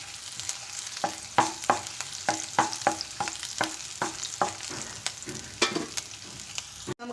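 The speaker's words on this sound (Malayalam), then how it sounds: "നമുക്ക് ഇനി അതിലേക്ക് ചതച്ച ഇഞ്ചി വെളുത്തുള്ളി ഇട്ട് കൊടുക്കാം." Crushed ginger and garlic sizzle in hot oil in a pan while being stirred, with a steady frying hiss broken by a dozen or so distinct scraping stir strokes at a fairly regular pace, close and clear with no talk.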